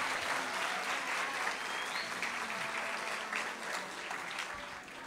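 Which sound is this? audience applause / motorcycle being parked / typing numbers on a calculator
audience applause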